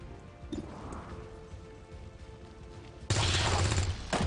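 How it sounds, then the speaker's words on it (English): Gunfire erupts in XCOM 2, a sudden loud burst of shots and impacts following a quieter stretch with a brief earlier crack. "You're going to take the shot."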